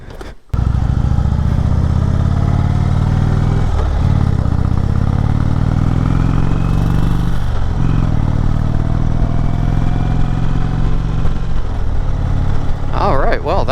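An Indian motorcycle engine revs and pulls away, a loud, steady, close-up drone with rising pitch as it shifts through gears.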